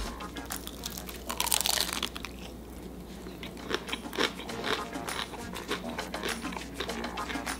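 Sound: biting into crunchy ramen noodle burger slider

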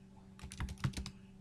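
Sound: typing an SQL query on a computer keyboard

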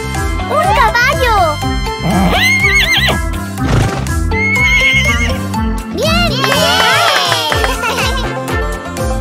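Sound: horse neighing, toy surprise egg video

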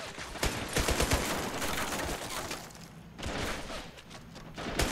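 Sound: gunfire shootout in a video game

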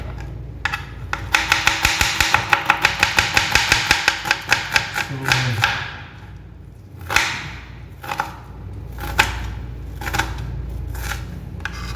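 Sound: chopping onions with a knife

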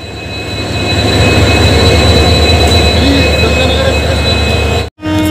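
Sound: train at a railway station

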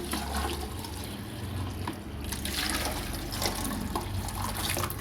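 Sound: hot rice water poured into a stoneware pot

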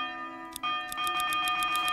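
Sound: church bell ringing in the video game Manor Lords

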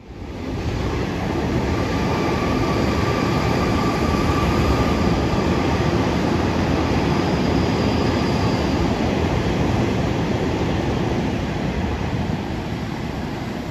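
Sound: Sydney Metro train passing

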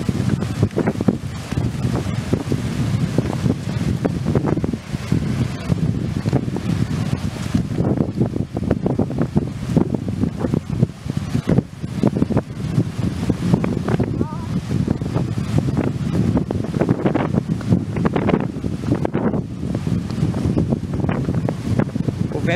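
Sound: wind blowing near the sea

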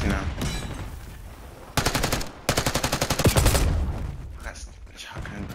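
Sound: shotgun fire in video game Call of Duty Black Ops 6

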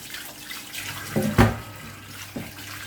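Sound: washing trotters under running tap water

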